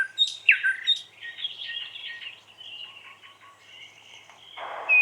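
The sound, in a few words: birds singing ambient sound effect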